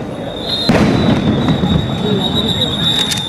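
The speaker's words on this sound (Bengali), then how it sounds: "সাউন্ড গ্রেনেড নিক্ষেপ করা হচ্ছে" Sound grenades set off at a street protest, a sharp blast followed by a sustained roar of crowd noise and echoing commotion, loud and close, with a high whistling tone running through it.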